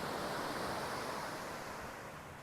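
Ocean waves on a beach in Aptos, California, a steady broad roar of surf with some wind, continuous and fairly distant, with no voices.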